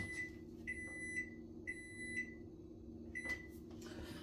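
A kitchen timer beeps in several short bursts of high electronic tones, paired beeps recurring about every half second, over a steady low hum in a quiet kitchen.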